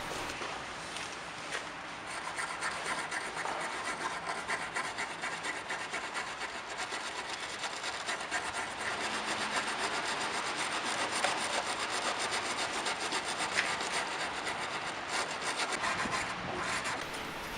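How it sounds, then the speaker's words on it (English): A wire brush scrubs rust from the body of a Mercedes-Benz, producing a steady, close, continuous raspy scraping that holds up for the whole stretch with no talking. "grab a wire brush, use your elbow grease and try to remove as much as possible of this"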